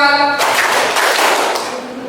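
Group hand clapping in a classroom, a burst of many hands striking together in a quick, roughly rhythmic pattern after a brief voice, close and fairly loud, fading slightly toward the end.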